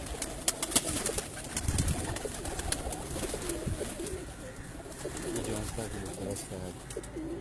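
Lakha pigeons coo softly on a rooftop loft, their low, throaty calls repeating steadily under a busy, noisy outdoor background.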